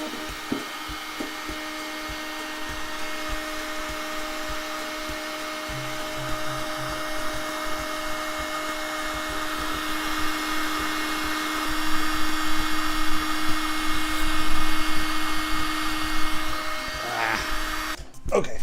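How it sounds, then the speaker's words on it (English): A heat gun warms a jammed 3D printer nozzle to free stuck filament, giving a steady close blowing hiss with a faint motor whine that swells slightly louder near the end before a brief clatter. "heat this guy up with my heat gun"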